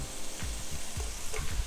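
Green onions and translucent onions frying in a pan for tacos, a constant close sizzle with a few soft stirring scrapes over a brief stretch.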